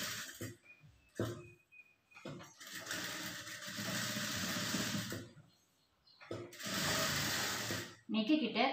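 A sewing machine stitches a blouse lining in two long, close whirring runs separated by a quiet pause, with shorter mechanical bursts and a voice speaking in the gaps.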